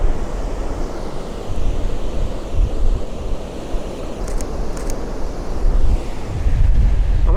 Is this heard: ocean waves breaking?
yes